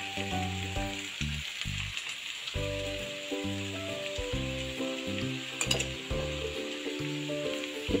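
Potatoes sizzle in a pan of sautéed onion, a continuous frying hiss under prominent background music.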